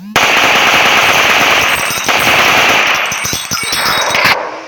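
Rapid machine gun fire in the mobile shooting game iGun Pro, a dense, loud burst of closely spaced shots rattling continuously for several seconds before cutting off sharply.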